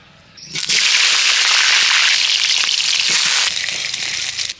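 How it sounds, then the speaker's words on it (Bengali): Potatoes frying in hot mustard oil in a kadai for chicken curry, a loud, steady crackling sizzle that bursts up suddenly as they hit the oil and keeps going, easing slightly near the end. "প্রথমে আমি মাংসতে দেওয়ার জন্য আলুটা ভেজে নেব"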